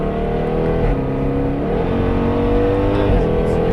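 A 3.8-litre race car, the Michel SVR, driving on the Paul Ricard circuit: a loud, close engine climbing through the revs under steady throttle, with brief dips where the pitch shifts, continuous for the whole stretch.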